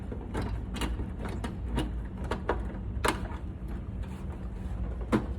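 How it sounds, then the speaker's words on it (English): Screwdriver tightening the lid on top of a Halcyon Gold stage light after a gobo change, heard as faint, close, irregular ratcheting clicks and small mechanical ticks with no talking. "you take your screwdriver back into the top and you tighten the lid back on"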